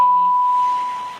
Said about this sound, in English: my phone beeped at me, totally distracted me.